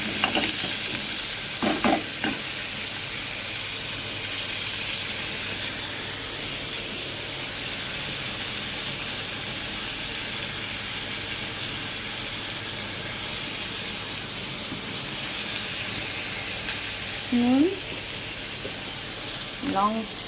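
Food fries in a kadai normally used for luchi, a steady close sizzle running throughout, broken by a few scrapes of stirring and a short utensil squeak near the end.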